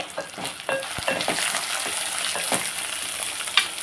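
Dried red chilies fry in hot oil in a pan for a coconut chutney, producing a steady close sizzle with crackles and a few sharp pops and clicks.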